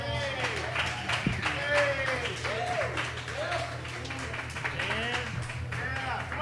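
A fundraiser audience claps steadily for a stand-up comedian, the applause running underneath someone speaking loudly over it.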